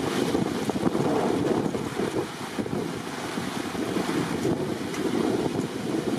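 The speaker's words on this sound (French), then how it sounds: "il y a le vent qui commence à souffler là" Wind blows steadily through a garden as a thunderstorm approaches, a continuous, fairly loud rushing roar with slight swells and no voices.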